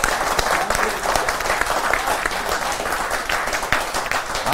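An audience at an Independence Day poetry gathering at the Red Fort bursts into loud, sustained applause, many hands clapping densely and evenly for a few seconds.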